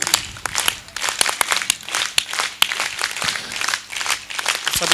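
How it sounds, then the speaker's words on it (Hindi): Rhythmic group clapping, the veer taali, from an audience at a gurukul annual celebration's exercise display, with sharp bursts of claps in an uneven beat, moderately loud and close. "अब आपको वीर ताली बजानी है, बजाएंगे वीर ताली।"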